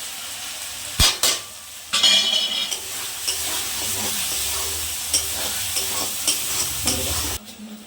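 Spices such as salt, turmeric, cumin and chili powder are stirred into onion and garlic frying in oil, with a constant sizzle, scraping spoon strokes against the pan and a few sharp clinks.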